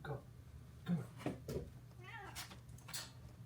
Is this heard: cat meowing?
yes